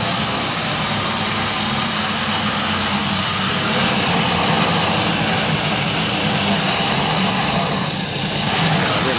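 Twin pipe water pump running under test at a house, a steady loud broadband rushing hum of motor and forceful water flow, continuous and close with no talk.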